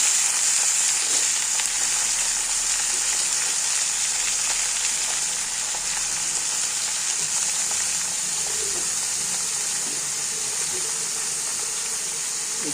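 Eggplant frying in hot oil with tempered mustard seeds and garlic, a steady, dense sizzle and hiss running close and loud throughout, with faint scattered pops and no voices.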